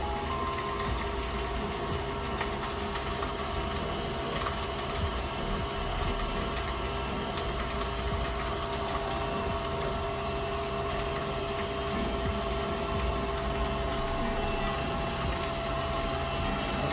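An electric mixer creams butter, sugar and an egg for sugar cookie dough, producing a steady, loud motor whir that runs unbroken throughout.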